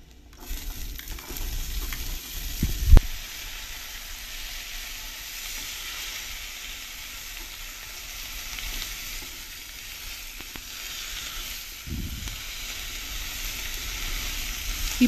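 Chopped raw papaya, firm and half-unripe, sizzles in a pan with cumin for a papaya makhana sabji, making a continuous soft frying hiss with a couple of knocks and scrapes from a spoon, and no voices.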